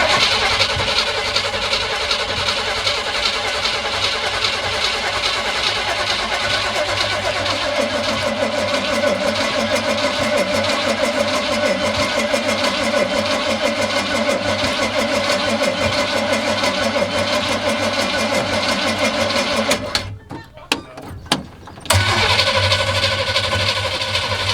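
Custom truck engine with a freshly rebuilt Quadrajet carburetor cranks over and catches, then runs steadily at a loud, close idle, with a brief drop-out near the end before the engine noise returns.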